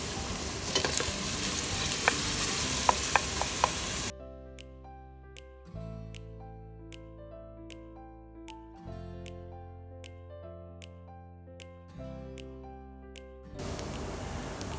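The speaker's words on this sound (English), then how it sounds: "We will be frying the onions until they translucent and soft." Onions fry in a pan for a yellow chicken curry, a close, steady sizzle at the start and again at the end, with a stretch of background music in between.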